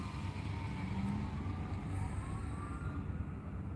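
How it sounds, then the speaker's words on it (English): Emergency vehicle sirens wailing at a distance, rising and falling tones over a steady rumble of road traffic, with no talk. "I hear sirens going off for the shots fired one."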